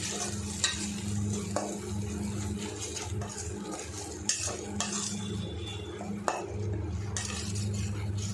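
Onion paste with chopped coriander sautéing in a pan, a steady sizzle with a low hum under it and a few scattered clinks and scrapes of a spatula against the metal.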